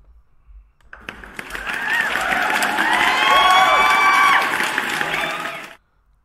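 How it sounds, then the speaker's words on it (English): Crowd applause and cheering with whoops and shouts swell in after a brief quiet start, hold loud and steady for several seconds, then cut off abruptly. "Let me give you a round of applause."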